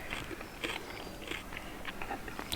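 Someone bites and chews a Nestle Toffee Crisp bar up close, with crisp rice crunches and sticky toffee chews repeating in a quiet, even rhythm and no talking.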